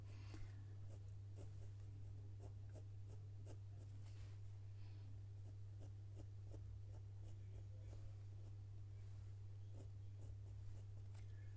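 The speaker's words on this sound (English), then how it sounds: "I'm just sketching it in with a nougat" A nougat-coloured pencil sketches a robin on paper: soft, quiet scratchy strokes repeat in short bursts over a steady low hum, with no talking.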